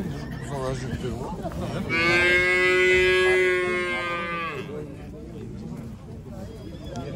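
A cow lets out one long, loud moo in the middle, surrounded by the chatter and background noise of a busy crowd at the Merki-Atabek livestock market.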